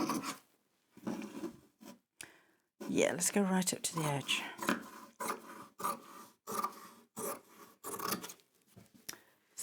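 Close scissors snip and rasp through fabric in a run of short crunchy cuts, with a soft voice speaking briefly between them.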